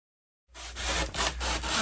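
Hand sawing through a 36-inch wooden piece to cut it in half, heard as steady rhythmic rasping strokes, close and alone.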